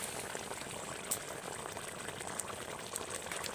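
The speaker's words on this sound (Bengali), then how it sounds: "বড়াগুলো দেওয়ার পর আবারও কিছুক্ষণ ভালো করে ফুটিয়ে নিতে হবে" Spinach and potato curry with lentil dumplings simmers in a pot, giving a steady, close bubbling and crackling boil with small pops throughout, no talking.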